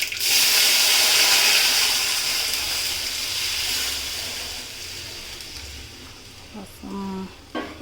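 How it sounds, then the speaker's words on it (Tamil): Rasam made with long pepper, betel leaf and tomato boiling in a pot, a steady steamy hiss and bubbling that is loudest at first and slowly fades, with a few brief clinks near the end. "கொதிக்குது."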